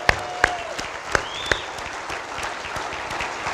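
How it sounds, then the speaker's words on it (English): A crowd at a university hall of fame induction ceremony claps steadily with a few sharper, louder claps standing out early on, the applause continuing evenly throughout. "we can just give Coach a special round of applause wherever he is"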